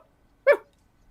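A person barks in imitation of a dog, one short loud yelp-like bark standing alone in an otherwise quiet room.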